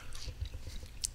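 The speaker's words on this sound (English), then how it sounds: "Just chewing away while I'm trying to record." Close-miked chewing of food by a person, with soft wet crunches and a sharp bite near the end, quiet and alone with no talk.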